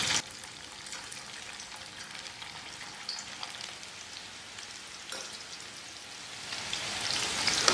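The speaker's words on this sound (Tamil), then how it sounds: "மீடியம் ஃப்ளேமில் வச்சுட்டு நான் சிக்கன் போட்டுக்கிறேன்." Chicken pakoda frying over medium flame in hot oil in a kadai, giving a dense, steady crackling sizzle with scattered sharper pops, fairly close and quiet, heard alone.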